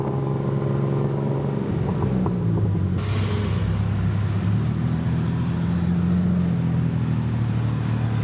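An open-air tuk tuk driving through busy Bangkok traffic, its small engine droning and shifting pitch as it revs and accelerates, with steady road rumble and passing traffic close around it.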